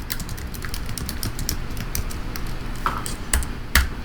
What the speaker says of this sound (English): Sorry, you can hear me typing.